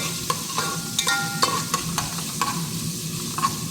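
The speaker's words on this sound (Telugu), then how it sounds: "ఇవన్నీ బాగా వేయించుకోవాలన్నమాట ఇవి అల్లం తెల్లగడ్డ పేస్టు అండ్ ఎర్రగడ్డలు" Ginger-garlic paste and onions fry in a pan with a continuous close sizzle, broken by repeated sharp stirring knocks and scrapes of a spoon at an uneven rhythm, with no voices.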